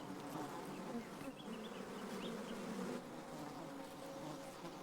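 Bees buzzing in a nature documentary, a dense continuous drone of many insects, fairly faint and steady throughout, with no talking.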